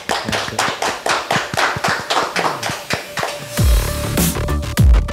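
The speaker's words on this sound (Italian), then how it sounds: "Applauso" Clapping breaks out from a studio audience at the close of an Italian talk show, loud, close, rhythmic claps in a fast steady beat, joined near the end by heavier thumps and a busier burst of sound.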